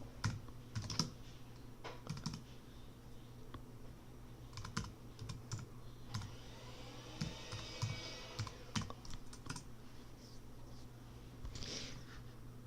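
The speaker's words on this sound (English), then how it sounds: "Oops, let me type that correctly." Command being typed on a computer keyboard during a Windows compiler install: steady bursts of close key clicks with short pauses, moderately quiet, no one speaking.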